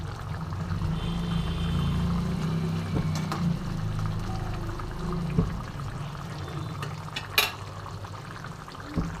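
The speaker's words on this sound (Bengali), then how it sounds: "ঝিঙেটা আমি এখন দিয়ে দেব। এটা দিয়ে দিচ্ছি সম্পূর্ণ কাঁচা।" Raw ridge gourd goes into a pot of simmering chicken dal, giving a steady low bubbling and sizzling bed with a few soft clinks and stirring scrapes near the end.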